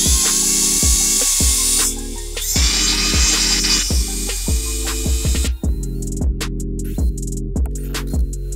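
A power drill whines in short repeated bursts, the motor revving up and down as it bites into metal, drilling out a rivet head on a motorcycle clutch basket.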